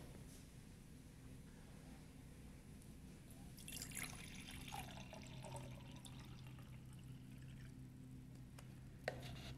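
Water pours and trickles into a glass beaker set on a penny, faint and close, with a brief splashy burst midway and a small clink near the end.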